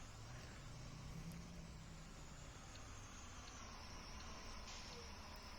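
A bus drives in the Rigs of Rods video game, a faint, steady engine hum with slowly shifting tones under a hissy background.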